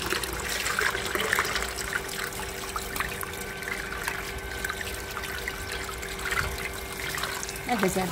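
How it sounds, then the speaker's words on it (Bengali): Tap water trickles steadily into a sink while food is rinsed repeatedly until the water runs clear, a constant close splashing flow with a brief clatter near the end. "যতক্ষণ না সাদা পরিষ্কার জল আসবে ততক্ষণ দিতে থাকবো।"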